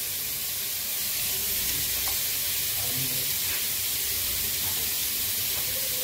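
Chopped onions frying in a pan for a Mangalorean-style home-cooked dish give off a steady, close sizzle and hiss that holds evenly throughout, with a few faint clicks.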